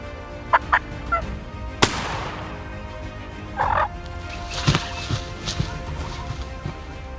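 Several short turkey gobbles burst out at moderate distance, mixed with a sharp knock and a few faint clatters.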